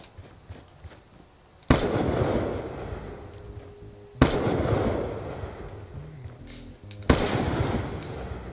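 Gunfire in the Call of Duty map Nuketown, a 1v1 match: three loud, sharp shots or bursts spaced a few seconds apart, each with a long rumbling decay, over quiet ambient game sound.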